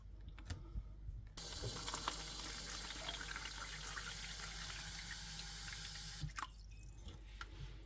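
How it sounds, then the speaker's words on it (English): Fermented tomato seeds from indoor bonsai tomatoes are rinsed under a tap. Running water splashes steadily and close for several seconds, then it stops, with a few drips and clicks before and after. "Now I'll rinse them several times until the water clears up."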